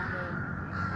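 Crows cawing outdoors on a shady walk, the calls mixed into steady background noise with a person talking over them; brief, about one second.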